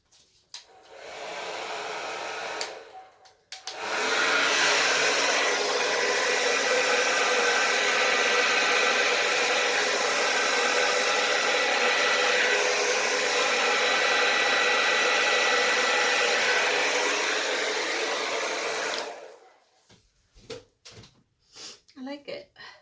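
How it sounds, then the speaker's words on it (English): A hair dryer on its low setting blows over wet acrylic paint in a fluid-art Dutch pour, a steady close whoosh lasting about fifteen seconds, preceded by a brief start and followed by handling clicks. "I'm just gonna get the blow dryer and do that on low here."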